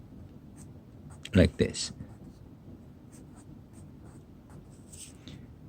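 Handwriting strokes during a lesson on character structure and key picking, a few short, close scratching bursts in quick succession, with a voice speaking before and after.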